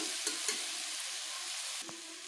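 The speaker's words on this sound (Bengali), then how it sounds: "এবার আমি মৌরলা মাছটাকেও দিয়ে দিচ্ছি এবারে মৌরলা মাছটাকে ভালোভাবে মিশিয়ে নিয়ে আমি এটিকে বেশ ভালোভাবে কষিয়ে নেব" Mourala fish and wax gourd frying and being stirred in a pan, a steady close sizzle with a few soft scraping stirs.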